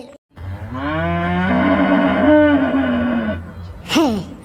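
A cartoon bull at a jallikattu bull-taming contest lets out one long, loud, close moo that rises and wavers, then gives a brief second grunt right after.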